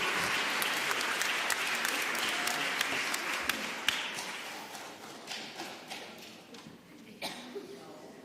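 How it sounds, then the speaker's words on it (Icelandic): A church congregation at a confirmation mass gives sustained applause with sharp, distinct claps that gradually thin out, and a voice is heard over it. "og gefið ykkur gott klapp"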